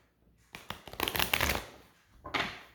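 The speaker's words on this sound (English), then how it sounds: "You shuffle the deck." Playing cards being shuffled by hand in a quiet room, close and crisp: a few quick riffles and taps building into a dense flurry, a short pause, then another burst.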